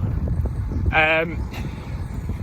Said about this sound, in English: It's a little bit windy today, which isn't ideal.